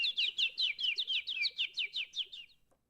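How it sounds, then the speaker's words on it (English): Small birds chirp in a rapid, regular series of bright tweets, about a dozen calls over two and a half seconds, fairly close and clear with no talk, then falling silent. "Are you hearing birds?"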